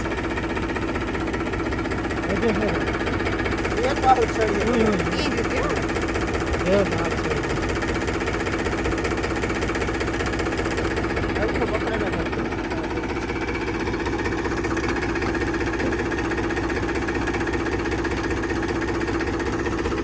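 A tractor engine runs steadily and close by, a continuous low mechanical rumble and knocking throb with little change in level, while people talk over it.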